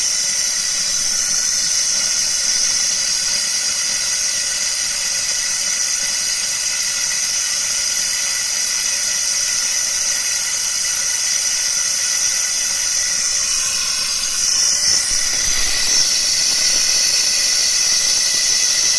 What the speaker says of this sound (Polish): Powietrze kilkakrotnie przyspiesza nabicie licznika.